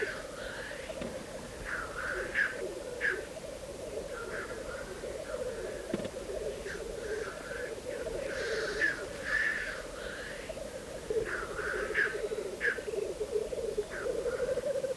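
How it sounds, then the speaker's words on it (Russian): Male grouse cocks display and fight at the centre of a lek, giving repeated short calls and bubbling sounds over a steady background hum, with a narrator speaking in places. "Бои между петухами проходят в центре тока."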